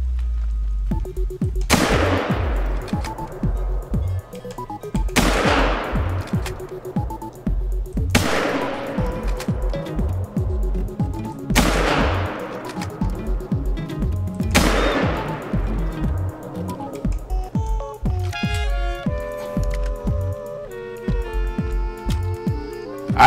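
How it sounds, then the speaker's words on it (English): Five loud, widely spaced gunshots from a hunting rifle fired at a red deer in the hunting game The Hunter, each with a long fading echo, followed by quieter clicking and rattling of the weapon. "And commence to shooting."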